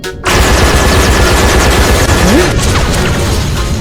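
Rapid automatic gunfire in a dinosaur video game rattles loud and continuous, a fast stream of shots filling the whole stretch after a brief quiet start.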